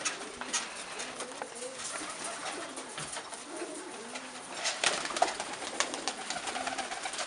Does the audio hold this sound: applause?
no